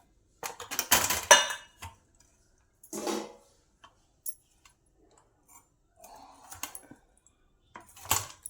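A knife chops bitter gourds in quick, light clicks and taps on a board, with brief clattering bursts separated by quiet pauses.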